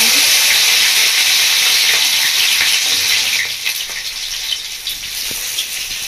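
Chopped potato sizzling in hot oil for a paneer mixed veg roll, a loud steady crackling fry that fills the whole stretch and eases slightly toward the end, with no voices.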